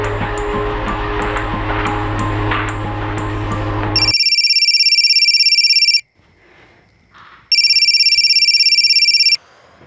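Telephone ringing unanswered, two loud electronic ring bursts of about two seconds each separated by a quiet gap, following a stretch of dense background noise with no voices.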